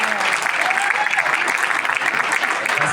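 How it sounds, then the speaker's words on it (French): Applause from an audience at a Côte d'Ivoire consular gathering in France for the ambassador, a thick continuous clatter of many hands with some voices mixed in. "je voulais que vous l'applaudissiez vraiment"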